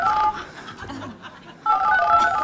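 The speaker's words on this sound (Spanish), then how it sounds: "¿Un mensaje de texto parece?" A phone text-message notification tone chimes twice, a short bright electronic melody at the start and again near the end, loud and close, with faint voices and chuckling in between.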